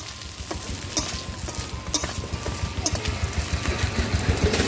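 Fried small river fish go into a hot pan for a brahmi greens curry, raising a steady sizzle with rhythmic scraping and stirring knocks, close and fairly loud.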